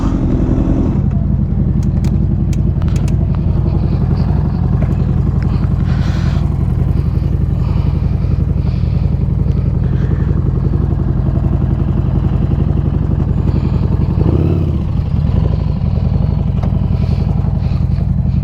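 A motorcycle engine drones steadily throughout at close range while riding on roads after rain in Pangasinan, with a constant low rumble and occasional clattering, and no one speaking.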